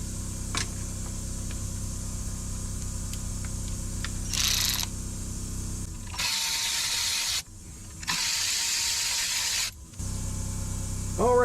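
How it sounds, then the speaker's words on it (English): Bursts of ratchet clicking and rasping as two screws are backed out while mounting a spark plug wire loom, close and crisp in several separate runs with short pauses between, no talking. "So I'm going to get these 2 screws off and mount it."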